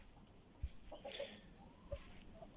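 A naked neck hen clucks softly nearby in a few short, separate bursts over quiet farmyard background.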